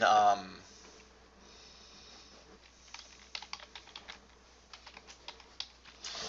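Keystrokes on a computer keyboard come in short irregular bursts of light clicks, quiet and close, typing in a text entry on a computer, with a brief voice at the very start.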